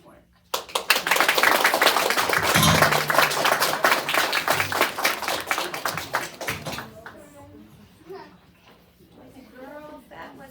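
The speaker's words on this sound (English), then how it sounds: "Let's give them another round of applause." Audience applauding girl students after their performance: dense, sustained clapping from many hands for about six seconds, then fading into quieter background voices.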